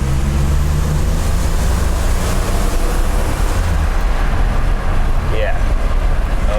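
A 1987 Buick Grand National's engine runs with a loud, steady rumble throughout, heard from close by with a continuous low drone and a brief chirp near the end, while people talk over it.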